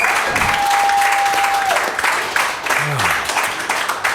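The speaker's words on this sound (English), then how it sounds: "can I please get a round of applause for our two amazing guests, Gwilym and LV General" Studio audience applauding for two guests at a live talk-show event: a dense burst of clapping from a small crowd, fairly close and loud, lasting a few seconds with a brief tonal beep and a voice partly under it.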